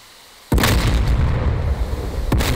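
A heavy bomb detonates in a flight simulation combat game, a sudden loud broadband boom that rumbles on for nearly two seconds before a second sharp blast hits at the end.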